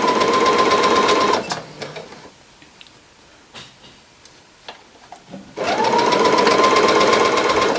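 A sewing machine stitches the side seam of a simple blouse, running loud and steady, pausing for a few seconds with only faint handling clicks, then starting up again at full speed.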